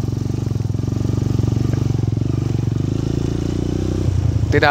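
A trail motorcycle rides a rough, broken asphalt road on an extreme route, its engine throbbing in a close, steady pulsing drone that swells slightly before a rattling clatter near the end.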